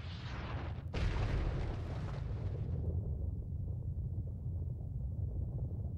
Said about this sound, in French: Lorsque les astéroïdes s'écrasent au sol, ils éclatent.